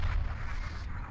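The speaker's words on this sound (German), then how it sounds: "Da können wir nur versuchen, ein paar Schüsse zu verteilen" Spaceship weapons firing in Starpoint Gemini 2, heavy booming low blasts rolling together into a continuous rumble, loud and close with no voice over them.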